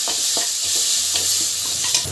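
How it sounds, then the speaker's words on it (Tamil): Ginger garlic paste sautés in a hot pan, giving a steady close sizzle broken by repeated scraping stirs of a spoon, with no talking. "ஸோ ஆட் பண்ணி நல்லா வந்து வதக்கிக்கோங்க."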